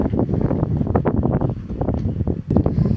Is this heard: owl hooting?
no